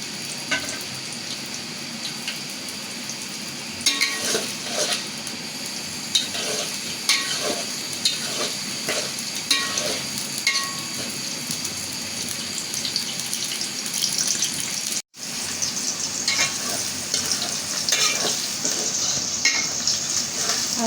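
Onion and garlic fry in a pan while being stirred, a bright crackling sizzle punctuated by repeated scraping strokes of the spoon over about twenty seconds, with one brief dropout midway and no speech.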